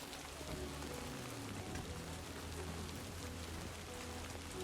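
Heavy rain in the video game Death Stranding 2: On The Beach, a dense, steady hiss of downpour on surfaces, constant and enveloping with no talk over it.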